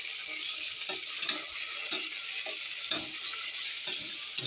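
Onion masala stirred and sautéed in a pan for cooker dum biryani, a steady sizzle of frying with repeated scraping strokes of a spoon, close and continuous without talk.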